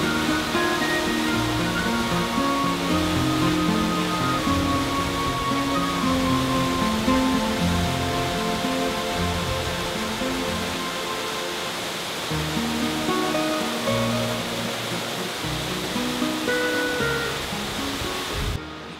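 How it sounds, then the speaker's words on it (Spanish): A 25-metre waterfall plunges into the Ebro river in a limestone canyon, spraying over mossy rock; a loud, steady rushing roar fills the whole stretch without pause. "se precipita al Ebro en una cascada de 25 metros, brincando y deshaciéndose en mil hebras sobre la musgosa piedra"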